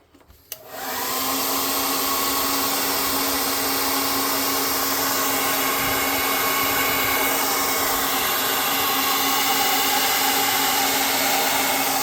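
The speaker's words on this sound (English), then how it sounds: "I'm going to hit this with the air gun." An air gun blasts a loud, steady rush of air onto wet paint on cardboard for a tabletop game hangar, starting abruptly and holding constant nearby.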